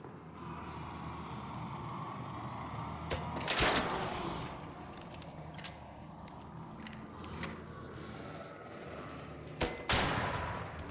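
Rascal grenade launcher shots striking ARC machines such as a Hornet in the ARC Raiders video game, with several sharp blasts, notably near 3.5 and 10 seconds, over a steady dense background of gunfire and battle noise.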